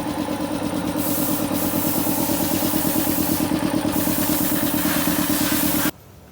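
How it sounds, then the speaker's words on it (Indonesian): An electric motor drives an air compressor with a loud, steady rhythmic clatter and hum, then cuts off abruptly near the end. "motor listrik yang berfungsi sebagai penggerak dari air kompresor"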